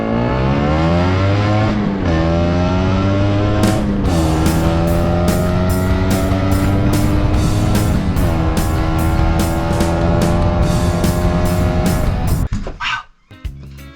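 LML 150 scooter with a jetted carburetor being ridden, its small two-stroke engine buzzing steadily and loud throughout with rising revs through gear changes, fading out abruptly at the end.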